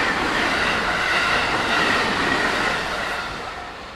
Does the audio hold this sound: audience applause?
no